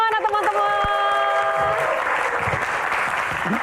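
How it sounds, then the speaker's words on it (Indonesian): An audience at a comedy Q&A show breaks into loud, sustained applause to welcome the comedians Cak Lontong, Abdel and Aco to the stage, swelling after a brief stretch of a host's voice. "Tepuk tangannya mana teman-teman?"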